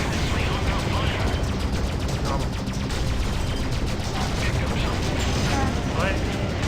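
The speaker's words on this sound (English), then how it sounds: "Enemy has me under fire." Enemy gunfire in a Freelancer space dogfight, a dense, loud, continuous crackle of rapid shots and mechanical rattling layered with a voice talking throughout.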